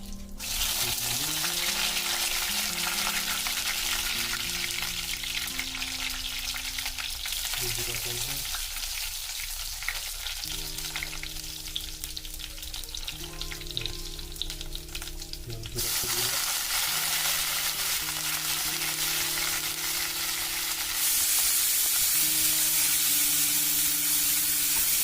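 Ingredients for an onion-free, garlic-free matar paneer sizzle and fry steadily in hot oil left over from the paneer, a continuous close crackle with stirring and rising spatter toward the end, no talking.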